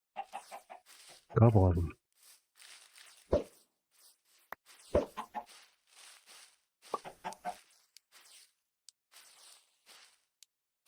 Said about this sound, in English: All of a sudden there's a lot more chickens out here.